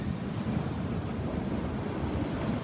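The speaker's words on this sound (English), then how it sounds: "Here comes the water." Ocean waves wash up on a sandy beach after a supermoon, a steady, loud roar of surf with wind buffeting the microphone throughout.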